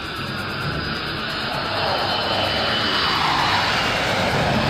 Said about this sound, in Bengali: হঠাৎ অনেক উঁচুতে দেখা যায় 3টি জঙ্গি বিমান